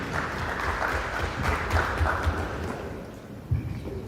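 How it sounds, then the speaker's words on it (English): Audience applause at a telecom office launch event in Limpopo, a steady crowd clapping wash with a few louder claps standing out, moderately loud and sustained. "let's give them a round of applause for the descendants of the stage"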